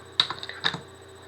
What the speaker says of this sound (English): I can type it in here.